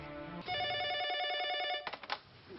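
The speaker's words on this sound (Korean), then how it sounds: "전화 한 통이 걸려온다" A telephone rings for an incoming call, one long steady electronic ring of nearly a second and a half followed by a few short broken bursts as it stops, clear and close with no talk.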